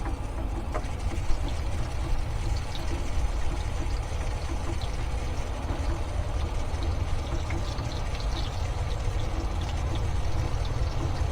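Water from a garden hose pours and rushes steadily while the hose fills during an engine flush, a continuous, close, even wash of flowing liquid with no talking.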